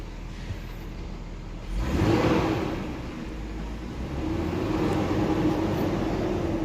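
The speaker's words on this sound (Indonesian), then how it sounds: "suara mesin dari 2200 cc 6 silindernya" A 2004 BMW 520i E39 with a 2.2-litre six-cylinder engine idles steadily with a low, continuous hum, rising slightly in level after a couple of seconds and holding there.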